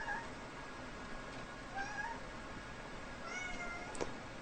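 A pet cat named Tiziano meows several times, giving short, soft, slightly rising calls spaced a second or two apart, faint and somewhat distant over a low steady background hiss.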